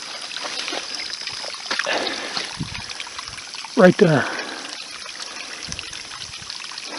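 Spring water trickling straight out of a muddy hillside makes a steady, close babble and splash. A few brief words are spoken over it.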